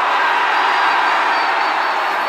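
Big outdoor political rally crowd in Korea sending up a steady, loud wash of shouting and cheering, continuous with no distinct breaks.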